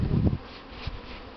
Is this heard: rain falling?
no